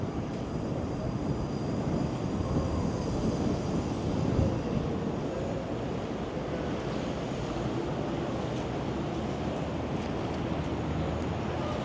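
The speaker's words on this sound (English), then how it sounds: "Just as I say that, a pretty cold gust of wind blows through." Cold wind gusting along a downtown Toronto street, a steady broadband rush that swells slightly around the middle and holds constant throughout, with no talk.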